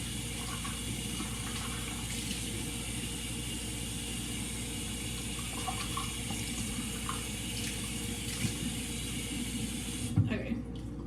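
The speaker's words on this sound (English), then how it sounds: "Let me rinse this out real quick." Tap water runs steadily into a container being rinsed in a kitchen sink, a continuous hiss lasting several seconds, with a brief clatter near the end.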